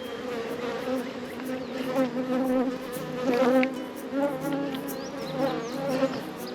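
Honey bees buzzing steadily in a dense swarm around a hive box, a continuous droning hum with individual bees flying close past, no voices.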